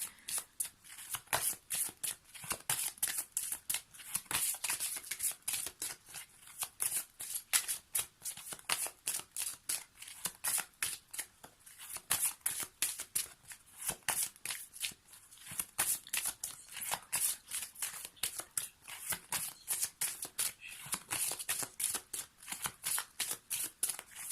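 Tarot cards being shuffled in a steady, continuous riffle of crisp papery flicks and slaps, close and fairly quiet, with no talking.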